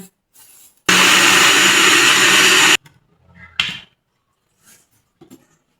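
A kitchen blender grinds moringa leaves with onion and garlic in one loud, steady burst of about two seconds, followed by a few quieter knocks and scrapes.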